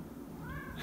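A cat meows in a short rising call over a steady indoor room tone, close and moderately loud, with no talking during it.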